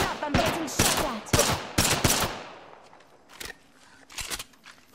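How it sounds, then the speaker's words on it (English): Gunfire in Apex Legends arrives as rapid bursts of loud close shots in quick volleys, then trails off into a few scattered, fainter shots and footsteps. "I'm getting shot at."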